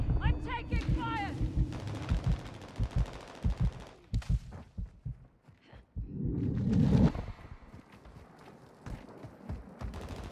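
Gunfire in Call of Duty Warzone 2, a dense spread of sharp shots and bursts that come in clusters, with a loud flurry near the start and another heavy stretch in the middle. Game voices and other effects sound between the shots.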